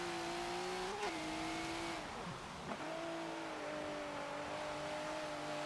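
A race car engine in Forza Motorsport 7 hums steadily at moderate volume, its pitch dipping and recovering a couple of times as the throttle is eased, with a faint tire squeal.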